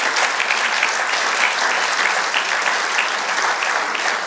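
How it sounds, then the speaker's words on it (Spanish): A church congregation applauds the Lord during a Spanish-language sermon, with steady, dense clapping that stays loud and even throughout, no voices standing out. "Dale otro aplauso al Señor."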